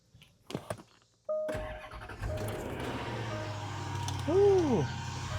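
A 150,000-mile Range Rover L322 with the 5.0-litre Jaguar V8 cranks briefly after a few clicks and catches, settling into a smooth, fairly quiet idle nearby with a slight rise in revs, free of chain rattle.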